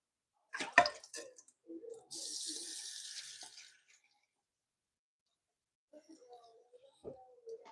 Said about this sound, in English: We'll need some bay leaves. Need to wash it first.